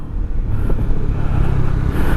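A Honda CB150X motorcycle climbing uphill, its engine giving a steady, loud, close drone under load with slight rises in pitch and no voices.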